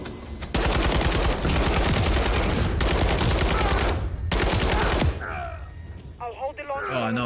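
An RPK machine gun fires in Call of Duty Modern Warfare III, a loud, sustained automatic burst with brief pauses for about five seconds, then dying away into scattered battle noise and a shouted voice.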